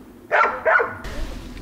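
A dog at a countryside home in the Mogilev region of Belarus gives two quick, close barks, followed by quiet room background.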